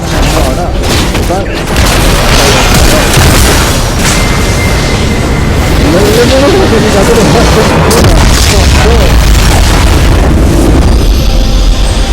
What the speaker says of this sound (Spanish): Tu equipo ha destruido una torreta.